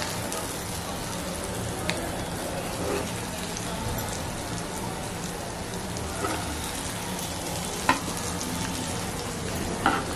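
Egg tawa masala fries in oil on a flat tawa over a slow gas flame, a dense, even crackling sizzle that runs throughout like rain, close up, with a few faint clicks and no talk.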